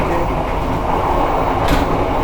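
Matarmaja passenger train running on a weekday trip, heard from inside the carriage as a loud, steady rumble and rattle that never lets up, with a brief hiss near the end.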